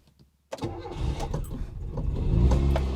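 A car engine cranks over briefly after a moment of quiet, catches, and settles into a steady, loud idle that grows slightly stronger.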